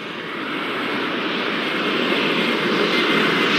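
Steady, loud roar of aircraft engines from the Airport Madness 4 video game during a desert rush-hour session, holding level and continuous throughout with no talk.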